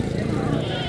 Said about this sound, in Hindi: डेरा गादी खान मंडी में बाबा लेके फिर रहा है बकरी।